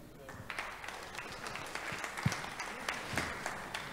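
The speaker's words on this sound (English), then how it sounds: "Another resounding applause for Dr. Ayodeji" An audience at a Nigerian Institute of Quantity Surveyors Lagos Chapter annual event applauds Dr. Ayodeji, with many hands clapping in a fairly soft, continuous patter and a few sharper claps standing out.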